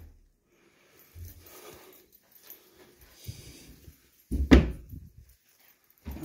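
A wooden door is handled during home remodeling, with scattered soft bumps and creaks before one loud knock or slam, then a final thud, in a quiet indoor room.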